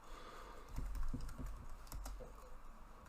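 A computer keyboard typed on while writing Java code, giving a soft, quick burst of key taps over low background hum, with no talk over it.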